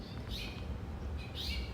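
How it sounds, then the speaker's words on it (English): A house finch gives two short bright warbling phrases outdoors on a campus, clear against a low steady background hum. "House finches are commonly known for their cheerful and warbling songs"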